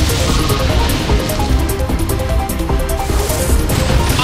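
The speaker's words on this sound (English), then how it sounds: "Annihilated by explosion." The Explosion move in the video game Pokemon Battle Revolution sounds as a loud, rumbling blast with crackling bursts and a ringing musical flourish, sustained and densely layered throughout.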